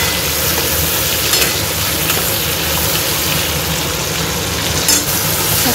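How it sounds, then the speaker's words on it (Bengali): Spices sautéing in a pan give a dense, even sizzle that holds steady throughout at close range, with a few brief scraping bursts from stirring. "এখন মশলাটা কষাচ্ছি"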